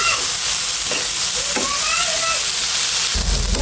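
Bitter gourd slices fry in an uncovered pan of hot oil while being turned and stirred, a steady loud sizzle broken by a few scraping stirs, with no one talking.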